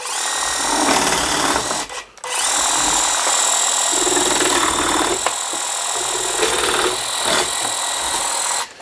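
Budget cordless garden hedge trimmer buzzing loudly and continuously as its blades chew against a thick branch, with brief dips where the cutting stalls.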